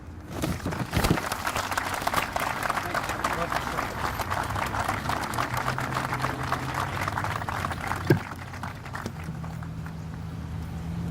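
An audience at a memorial wall dedication applauds to welcome a retired general as guest speaker, a dense sustained patter of many hands clapping that continues steadily, with a low hum emerging toward the end.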